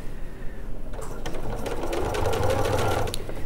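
Domestic sewing machine stitching a fabric sample, starting faintly and then running in a steady rapid whirr with a rhythmic needle clatter, close to the microphone and alone.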